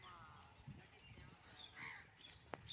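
A crow caws outdoors in the countryside, a few moderate harsh calls scattered through the short stretch over a busy background of ambient noise.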